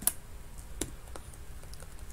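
Computer keyboard key presses, a few separate sharp clicks spaced irregularly, close and faint in a quiet room.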